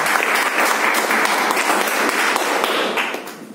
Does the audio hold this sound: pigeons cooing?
no